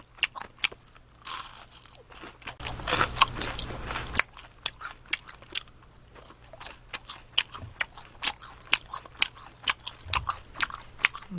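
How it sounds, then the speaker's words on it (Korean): Fried squid rings dipped in ketchup bitten and chewed up close, with sharp, crunchy bites and steady wet chewing that continue alone with no talking. "이거 오징어링인데, 이거 케찹에다 찍어 먹어볼게요."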